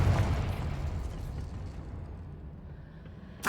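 The Confringo blasting spell explodes in the video game Hogwarts Legacy. A rumbling, noisy burst starts loud and slowly decays over a few seconds, and a fresh sharp burst hits right at the end.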